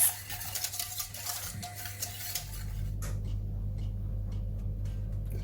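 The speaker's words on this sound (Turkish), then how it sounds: "Karıştıra karıştıra pişirin ayrılmayacağız" Muhallebi pudding sauce stirred continuously in a pot on the stove, a soft rhythmic scraping of spoon against the pot over a low steady hum, fairly quiet and close.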